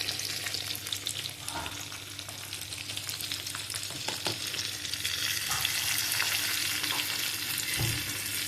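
Garlic sizzles and fries steadily in hot oil for a dhaba-style dal tadka, a continuous close crackle with a few stirring clicks and scrapes, no talking.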